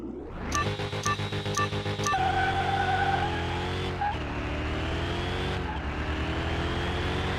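A Chrysler 300 in the video game Car Mechanic 2021 revs hard through rapid gear shifts, the engine note dropping at each change, then holds a steady drone with a few more shift steps.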